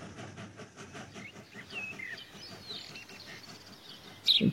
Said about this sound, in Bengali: যথাসময়ে ট্রেন কামাখ্যা জংশনে এসে থামল।